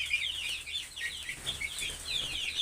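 Two-month-old chickens on a poultry farm give soft, fairly distant clucks and chirps that repeat irregularly over a quiet background.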